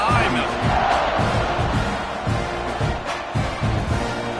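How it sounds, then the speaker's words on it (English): An NCAA football stadium crowd roars steadily before a kickoff, a dense, loud wall of cheering and shouting with rhythmic swells and thumps. "this crowd now ready to get behind them"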